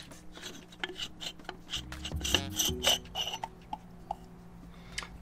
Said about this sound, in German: schrauben wir jetzt einfach den Deckel ab.